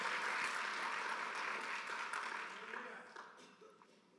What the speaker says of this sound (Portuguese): Pode aplaudir Ele porque Ele é digno